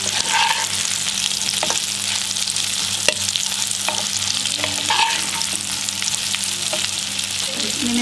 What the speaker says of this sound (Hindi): थोड़ा सा मैं और फ्राई करूँगी